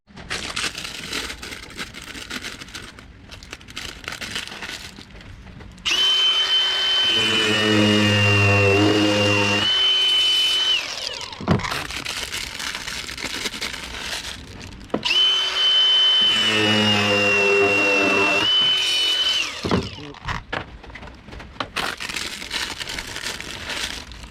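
A power tool cuts new handles inside a van in two sustained, loud whining bursts of about five seconds each, separated by a pause with clattering and handling noise.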